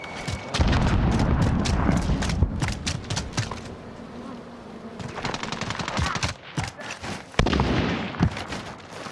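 Rapid gunfire bursts and booming blasts from a shooter video game, including a grenade explosion, loud and dense, continuing in clustered volleys with brief gaps throughout.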